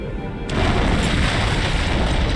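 An antimatter charge detonates aboard a ship in Halo, a loud booming blast that erupts after a quiet half second and rolls on as a sustained heavy rumble.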